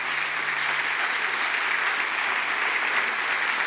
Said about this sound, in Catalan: un aplaudiment per la gent del Cursal